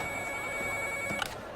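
A mobile phone ringtone plays in a steady electronic pattern, loud and alone without talk, with a brief click near the end.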